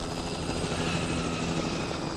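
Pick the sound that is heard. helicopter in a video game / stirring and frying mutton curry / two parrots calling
helicopter in a video game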